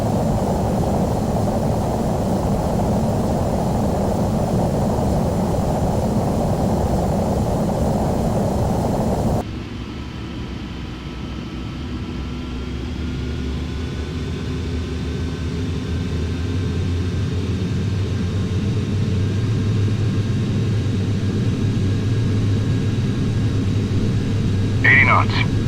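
Jet aircraft in Flight Simulator X rolling down the runway for takeoff, a steady loud engine roar that drops and shifts to a smoother rising whine partway through, with talk heard over it.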